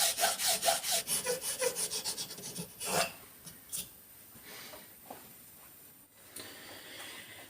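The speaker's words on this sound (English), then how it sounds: "Figured the easiest way is probably just to do it with a file" A hand file rasps rhythmically across a metal reed part for a Kawasaki AR50 two-stroke moped in a quick run of strokes, then a few slower, scattered scrapes follow, close and fairly quiet.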